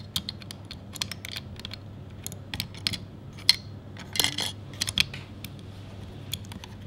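Mechanical clicks from a Fujifilm GA645 medium format camera as its film spool and small knobs are worked, a series of sharp, close, irregular clicks and ticks over a low steady hum.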